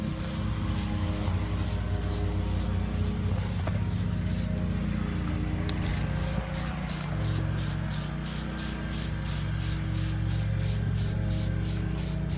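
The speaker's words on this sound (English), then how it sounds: "do a little bit of test spray. Here we go." Short hissing bursts of black aerosol spray paint hit hardware-store lightsaber parts outdoors on a windy day, with a lawnmower droning steadily nearby throughout and several rhythmic sprays toward the end.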